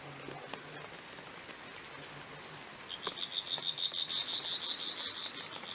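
A frog chorus starts partway through, a steady rhythmic high trilling pulsing repeatedly over faint background noise, fairly close and growing louder.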